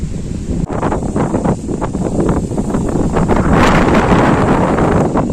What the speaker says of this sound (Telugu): ఇప్పుడిప్పుడే విపరీతమైన గాలి ప్రారంభమైంది